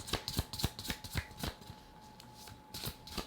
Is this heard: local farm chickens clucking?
no